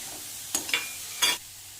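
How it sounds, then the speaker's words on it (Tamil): Carrot pieces frying in oil with turmeric, asafoetida, salt and curry leaves, stirred in a pan: two or three short scraping stirs over a soft, steady sizzle, close and fairly quiet, no talk. "எண்ணெயிலேயே இந்த கேரட்டை போட்டு 2 பெட்டு பற்றிடலாம்."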